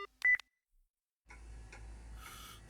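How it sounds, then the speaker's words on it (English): A phone call cutting off in a Spirit Hunter: NG horror visual novel, one short electronic beep followed by silence, then a low rumbling ambience with faint rustles. "The call disconnects."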